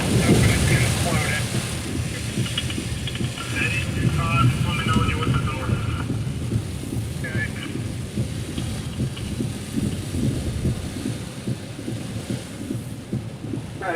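Heavy rain pours steadily during a severe thunderstorm in western Pennsylvania, with a low rumble of thunder running beneath a dense, continuous wash of rainfall that stays loud throughout.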